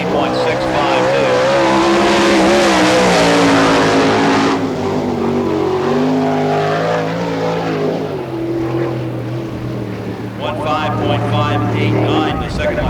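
Sprint-style race cars at an All Star Circuit of Champions Speedweek event in Barberville, Florida roar past in a loud, sustained engine drone with rising and falling pitch as they lap the track, an announcer's voice heard over the din.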